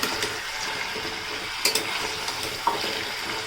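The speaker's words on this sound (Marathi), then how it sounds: "त्याचा तुपामध्ये आपण पहिले चांगले परतवून घेऊयात" Carrot pieces for halwa sautéing in ghee, a continuous close sizzle with a few sharp clinks of the spoon against the pan as the pieces are stirred.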